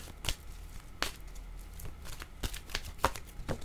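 Cards being drawn and handled during a tarot-style reading, producing soft, irregular slaps and shuffling flicks at close range, several sharp card snaps spaced about a second apart over a quiet room.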